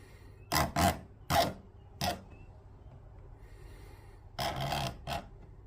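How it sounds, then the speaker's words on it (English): A plastic graded trading card slab case being scratched, heard as a few short rasping scrapes in quick succession, then a pause and a longer pair of gritty strokes, close and fairly quiet with no talking. "So you can kind of hear how deep those scratches went in."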